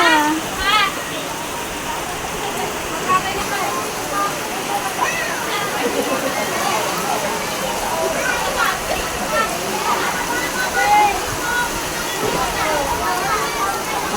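Heavy rain falls steadily on a mountain outing at night, a dense continuous hiss and patter that stays even throughout with faint background sounds.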